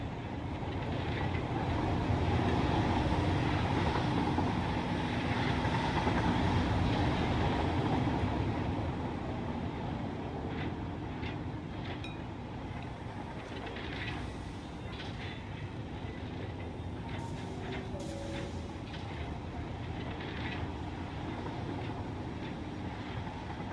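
Trains run in the video game Satisfactory, a continuous rumbling rail roll with faint clicking, louder early on and then settling to a steady moderate hum.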